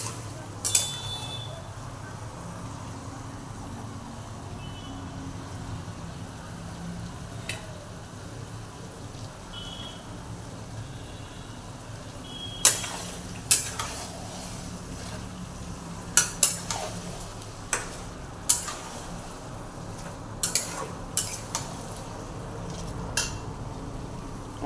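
Chicken pieces frying in a pan over a high gas flame, a steady low sizzle broken by sharp clicks and scrapes of a spatula stirring, the stirring growing busier toward the end.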